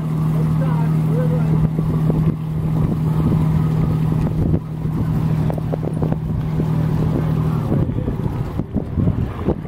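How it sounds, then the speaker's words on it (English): A single boat engine drones steadily at a raised idle in neutral with a low hum, steady 15-knot wind buffeting the microphone and water noise around it while docking. "he put it in neutral, but the engine's still at high idle"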